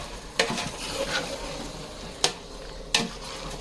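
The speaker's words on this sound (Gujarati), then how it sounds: "હવે આપણે ખાલી એમાં શાકભાજી ફેરવવાના છે" Vegetables for undhiyu get stirred in a sizzling pan, with steady frying hiss and a few sharp scrapes and clinks of a spoon against the pan.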